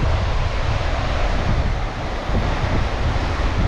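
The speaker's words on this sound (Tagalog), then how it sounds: "Ang lakas na alon." Strong sea waves surge as a loud, continuous roar of surf mixed with heavy wind buffeting the microphone, close and unbroken, with only a slight dip midway.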